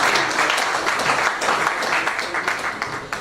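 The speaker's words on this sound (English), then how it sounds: "I think we should give the presenter another round of applause." Audience applause for a presenter during a technical session at a builders' conference, a dense steady patter of many hands clapping at moderate loudness for several seconds, with no speech over it.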